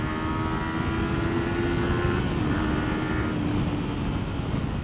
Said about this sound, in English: This is the highway, so I'll give it a bit of a rev here and see how it accelerates.